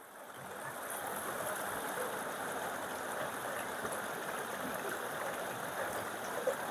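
Stream water rushing through a Californian Mini Drop riffle sluicebox, a steady broadband wash of flowing water that holds constant and close throughout, with no voices.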